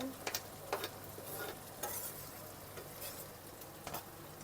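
Meat for goulash sizzles steadily in a hot pan, with occasional stirring scrapes and soft pops, no voices.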